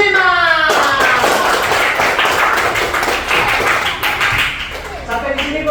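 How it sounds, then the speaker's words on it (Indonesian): A grade 5 elementary school class claps together in a classroom, a burst of quick, uneven hand claps and taps filling most of the moment, with a tone or voice briefly audible at the start and end. "Tepuk tangan untuk kelas 5."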